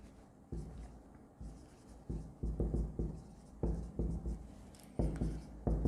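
Marker or chalk scratches across a board as capital account entries are written during an accounting lesson, coming in short, uneven rubbing strokes and bursts, fairly quiet and close, with no talk.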